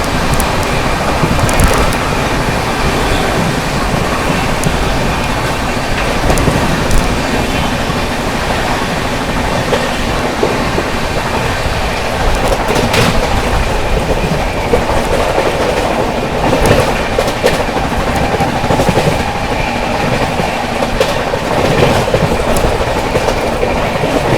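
A 12264 Hazrat Nizamuddin–Pune AC Duronto Express passenger train running on its tracks, heard from aboard as a loud, continuous rumble with rhythmic clickety-clack of wheels over rail joints throughout.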